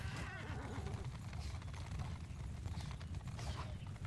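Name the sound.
cavalry horses galloping in Bannerlord video game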